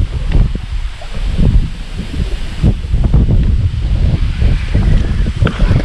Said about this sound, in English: The wind's going way too fast.